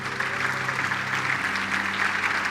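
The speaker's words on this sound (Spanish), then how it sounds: "Dale un aplauso fuerte." A church congregation claps loudly right after a closing prayer. The applause is dense and sustained, with a faint sustained tone humming underneath.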